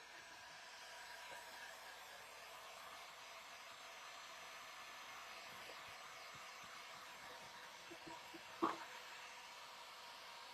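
Hair dryer blowing steadily to dry paint on a bunny print, a continuous airy whoosh at moderate distance with a single sharp knock near the end, no talk.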